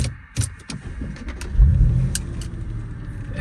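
An Audi RS4 engine revs as the car pulls away, a loud surging roar that swells midway through after a few short mechanical clicks.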